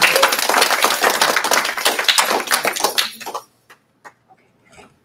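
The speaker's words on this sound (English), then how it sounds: "So let's give him a round of applause" An audience applauds a speaker introduced at a talk-show event. Dense, steady clapping for over three seconds stops abruptly, followed by a few scattered late claps in near silence.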